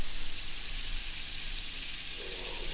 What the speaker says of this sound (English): Go ahead and melt in my butter